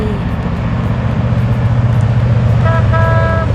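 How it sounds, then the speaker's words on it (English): Horn of a giant mining haul truck at an iron ore mine in Western Australia's Pilbara: loud, close blasts of a deep tonal horn over heavy diesel engine rumble, with two shorter honks near the end. "Honk your horn, buddy."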